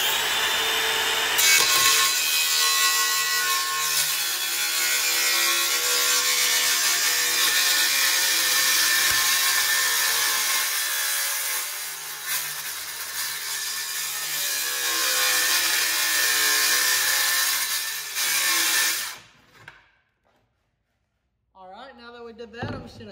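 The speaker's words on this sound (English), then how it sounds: "I'm going to try to take this PVC and split it straight up the middle" A length of PVC pipe being split straight down the middle with a power saw, a loud, continuous, close whining cut lasting nearly twenty seconds before stopping abruptly, with brief sounds after.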